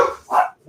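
Dogs give a quick pair of close, loud barks, one right after another, cut off short.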